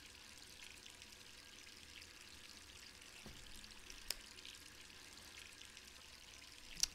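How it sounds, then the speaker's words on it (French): A sink tap runs steadily in Resident Evil 3 Remake, a faint, even hiss of flowing water throughout with no talking. "Toujours allumé le robinet."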